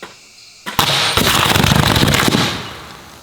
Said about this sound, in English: Other than the initial explosion, the sparks here are just from the copper switch plates hitting each other